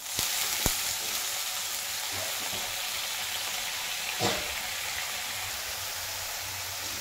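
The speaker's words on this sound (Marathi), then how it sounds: "आणि आता ही भाजी कढईमध्ये घालतो." Chopped vegetables hit a hot kadhai with dal already in the oil, setting off a loud, close, steady sizzle with a couple of sharp clinks and a brief stirring scrape midway.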